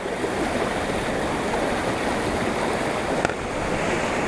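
A river flowing near hikers resting on the Appalachian Trail between Fontana Dam and Deep Gap, a steady broadband rush of moving water, fairly close and continuous, with no talking.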